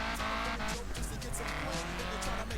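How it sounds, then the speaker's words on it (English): Tire screech from a car sliding in the Forza Horizon 3 racing game, a sustained squeal over a steady engine drone that keeps running through the whole short stretch. "Oh, it's the screech."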